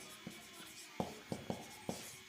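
Pen or marker strokes write a math equation by hand: a handful of short, quiet scratches at an irregular pace, close and soft against a faint hiss.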